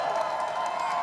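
A Toronto Ultra crowd roars steadily at a Call of Duty League Championship event, a dense continuous wash of cheering and applause filling the arena throughout.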